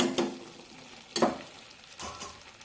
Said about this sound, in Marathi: दोन मिनिटे हे मटार या ग्रेव्हीमध्ये परतून घेऊया।